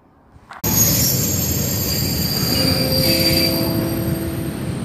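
An ICE train rolls into a platform at Hannover Messe/Laatzen station, a sudden loud onset followed by steady rumbling and high-pitched wheel squeal continuing throughout, close by.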